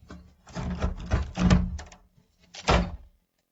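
A door is shaken or knocked in a series of dull, muffled thumps and rattles, clustered in bursts with a short pause before a final heavy knock, close and moderately loud, no speech.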